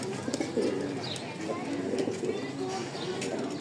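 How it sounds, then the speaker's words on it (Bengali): Racing pigeons coo in soft, repeated throaty bursts, close by and fairly quiet, while someone talks over them throughout. "একটা মাদি কবুতর দেখাই,"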